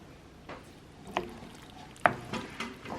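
A few soft, separate stirring strokes through a thick, sticky mac and cheese mixture in a pan, close by, with quiet gaps between them.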